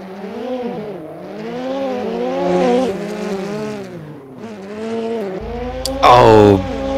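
Two drift cars battle at a Drift Corner Grand Prix round at MotoArena Toruń, their loud engines rising and falling in pitch continuously, with a sharp burst of tire squeal near the end.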